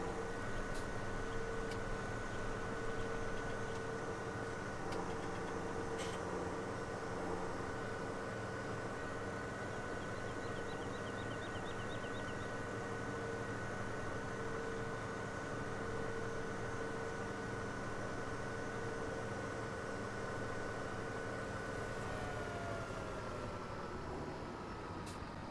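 In Farming Simulator 2017, a tractor seeding a field drones on steadily with a constant engine hum and mechanical whine. It holds at an even loudness throughout, with a brief beep partway through and no talking.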